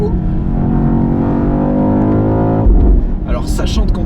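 A BMW XM V8 rumbles loud and close through an open exhaust, holding a steady growl before a sudden lower, heavier burst near the end.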